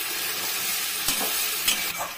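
Spice paste for a green jackfruit and prawn curry fries in a pan with a steady bright sizzle, broken by a few quick stirring scrapes.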